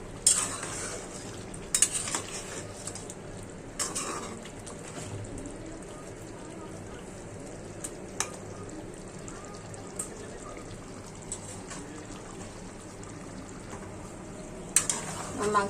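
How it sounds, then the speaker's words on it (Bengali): Beef curry simmering in a pot with gentle frying sizzle, stirred by a utensil that scrapes and clinks against the metal every few seconds, close and fairly quiet, with a voice talking over it. "গরু মাংস করলাম রাখতে সময় লাগে। লাড়াচাড়া দিতে আসলাম, যদি নিচে লেগে যায় তাই।"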